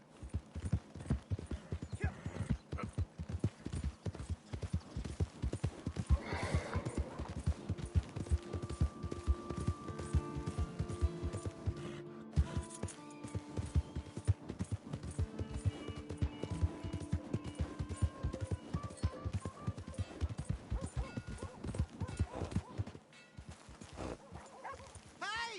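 Horse hooves in Red Dead Redemption 2 clip-clopping in a quick, steady rhythm throughout, close and prominent, with some faint voices and other game sounds mixed in.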